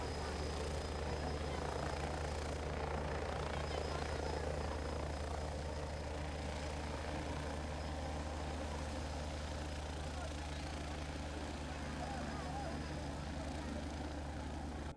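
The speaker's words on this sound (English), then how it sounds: "by helicopter." A helicopter's engine and rotor drone loudly and continuously, a deep steady thrum with no breaks.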